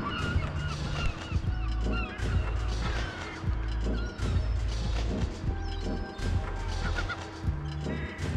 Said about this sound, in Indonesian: Banyak burungnya tuh.